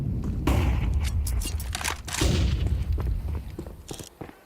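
A Counter-Strike match erupts in rapid gunfire and bursts from flashbangs, sharp cracks and booms in quick clusters over a low rumble, no voices.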